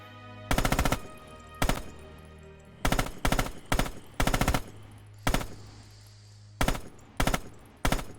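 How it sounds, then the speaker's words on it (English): Machine gun fire from Red Orchestra 2: Heroes of Stalingrad, loud short bursts repeated about nine times with brief pauses between them, under a steady low hum and with no talk. "Open fire downrange, small bursts."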